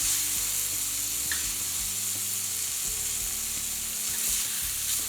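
Chicken pieces fry in olive oil in a pan for chicken piccata, a steady close sizzle that holds evenly throughout with no talking.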